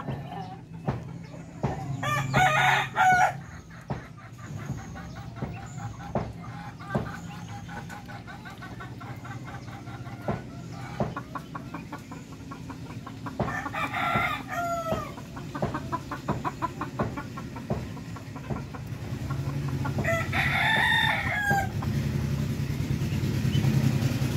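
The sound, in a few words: chickens and chicks clucking and crowing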